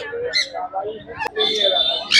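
Adult exotic bird at the Serampore pet market: short chirps and a sustained high whistle close by, with someone talking in between.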